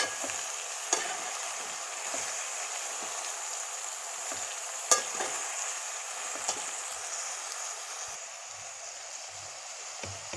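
Brinjal pieces and dried salted fish cook in a pan, a faint steady hiss of frying with a few soft clicks and scrapes of stirring, no voices.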